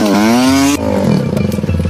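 A motorcycle in an Indian short comedy film, with a loud rising engine whine that cuts off after a moment and gives way to a lower, rougher rumble, close and continuous throughout.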